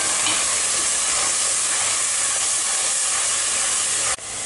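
Onion with ground mint-coriander paste sautéing in a pan for tomato biryani, a dense continuous hiss and sizzle, loud and close throughout, briefly dipping near the end.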